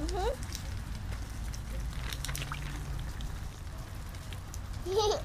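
Rain falls steadily as a soft continuous patter on surfaces outdoors, with a child's and adult's voices speaking briefly at the start and end.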